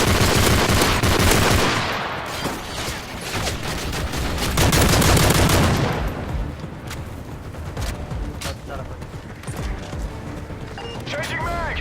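Dense bursts of automatic gunfire from Modern Warfare 3 Survival mode, with rapid machine-gun fire heaviest early and mid-clip, then thinner sporadic shots, mixed under a player talking.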